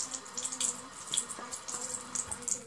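Tap water running into a sink for washing up on a cold morning, a steady close splashing stream with small drips and clinks over it throughout.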